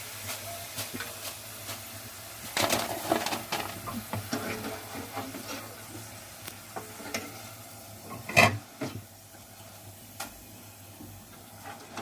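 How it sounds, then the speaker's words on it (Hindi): French fries are scooped out of hot frying oil with a strainer, steady sizzling and bubbling throughout, with metal scrapes and a sharp clink near the end. "अब हम इसे छन्नी की मदद से निकाल लेंगे।"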